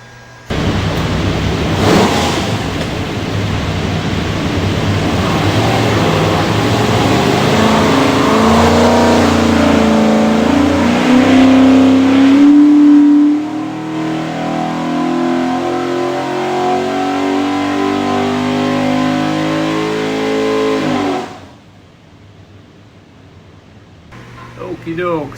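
Stacked 427 small block Ford V8 on an engine dyno, loud and close, revving up through a rising pull with a climbing pitch, then cutting off abruptly to near silence.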